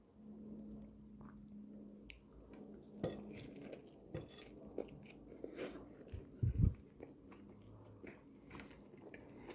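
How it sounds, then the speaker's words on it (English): Biting into a homemade classic beef burger: soft crunches and squishy chewing up close and fairly quiet, with a few clinks of cutlery or plates and one louder bite near the end. "First bite, baby."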